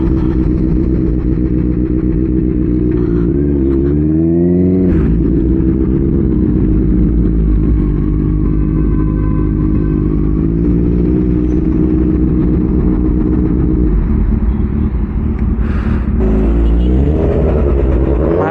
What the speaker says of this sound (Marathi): कसल्या फास्ट यायला लागल्यात गाड्या यार टनल मधनं